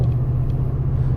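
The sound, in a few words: 2019 Toyota Tundra TRD Pro exhaust rumble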